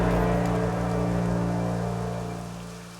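Steady rain falls on surfaces in the Assassin's Creed 3 game world around colonial Boston, a dense even wash over a low hum, with a small tap at the very end and no speech.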